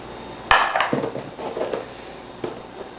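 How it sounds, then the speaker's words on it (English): Dried goldenrod seed heads dumped into a blender, a brief clattering rush of dry material hitting the jar followed by softer rustling settling and one small knock, close and fairly loud with no talk. "we'll take and dump it in the blender and grind it"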